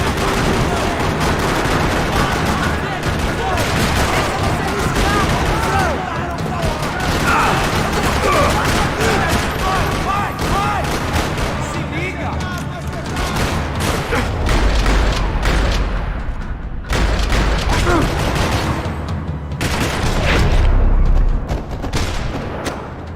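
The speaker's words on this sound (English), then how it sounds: "Another parking lot rattling with gunfire." Rapid bursts of gunfire and booming blasts rattle almost nonstop in a parking lot in the video game Max Payne 3, dense and loud, like a chaotic firefight with scattered shots overlapping.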